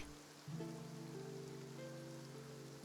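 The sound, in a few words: rain falling in a city, from the video game Genshin Impact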